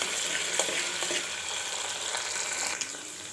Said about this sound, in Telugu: ఒకసారి కలుపుతూ ఆనియన్స్ని కొద్దిగా రెడ్ కలర్ వచ్చే వరకు ఫ్రై అవ్వనివ్వాలి